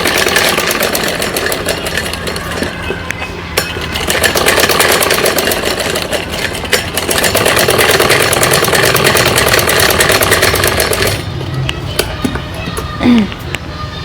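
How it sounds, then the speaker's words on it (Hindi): A sewing machine runs almost continuously, stitching a doubled seam on a child's night suit, with a steady rapid mechanical whir and brief pauses near the end. "इसको भी डबल कर लेते हैं सिलाई लगाकर।"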